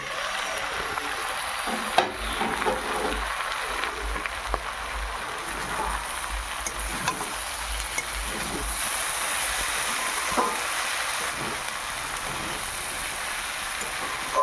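Prawns with capsicum and carrot being stirred in a pan for a chorchori, a steady sizzling hiss with scraping and clinking from the stirring, close and continuous without talk.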